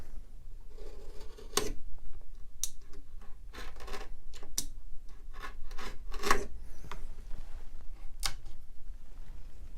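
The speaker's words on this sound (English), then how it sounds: "just putting the block down and then running the knife underneath." A knife run under a block scrapes and trims a wooden desk piece, producing a series of short close rasping strokes, some louder than others, over a steady quiet hiss.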